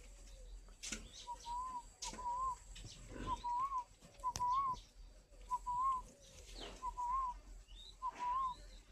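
Young spotted doves in a crowded breeding-farm enclosure give repeated short cooing and whistle-like calls about once a second, with occasional soft wing flaps and knocks in the background.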